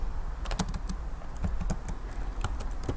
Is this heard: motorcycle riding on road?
no